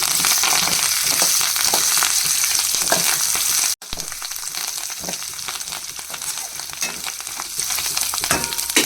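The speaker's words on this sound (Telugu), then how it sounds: "చక్కగా మీడియం ఫ్లేమ్లో పెట్టుకుని వేయించుకోవాలండి" Cumin seeds and curry leaves frying over medium flame in a pan, a loud, dense crackle and sizzle up close, broken by a brief silent gap partway through before carrying on.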